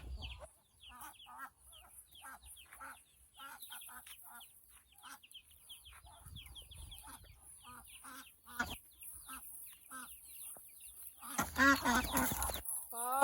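Ducks quack and honk on a rural Thai farm amid other fowl, scattered nasal calls near and far over a quiet background, with people talking and a busier burst of calls toward the end.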